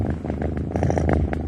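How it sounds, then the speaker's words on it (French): A contented cat purrs close up in a rhythmic rumble, loud and alone, with regular breathy pulses throughout. "Un chat content, un peu comme Arthur, n'est-ce pas Arthur"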